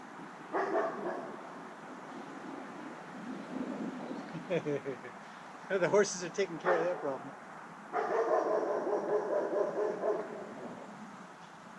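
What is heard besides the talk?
dog barking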